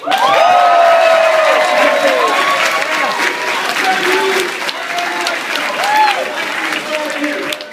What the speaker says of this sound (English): Let's give the newest brand partners a round of applause.